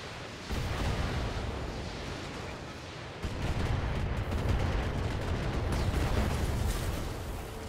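Missiles launched and high explosives going off in a video game, a steady roar of blasts and rumbling booms that swells partway through, with no voices over it.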